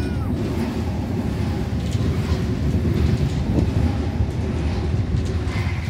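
Sydney Oscar H-set electric double-deck train passing platform 1 at Loftus station, a steady loud rumbling roar of wheels and motors with faint rail clatter, close by and continuous with no talk.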